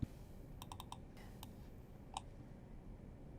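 A few crisp computer mouse clicks in a quick cluster, then a single click a moment later, faint and close against a quiet room hum.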